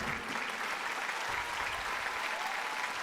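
Steady applause from the audience at a women's poetry recital (kavi sammelan) held for International Women's Day, dense and even clapping that holds at a constant level for the full stretch.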